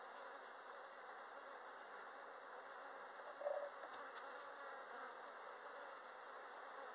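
A steady, soft drone of many honey bees, nurse bees on comb in a hive, buzzing together, continuous and even throughout, with a faint brief tap midway.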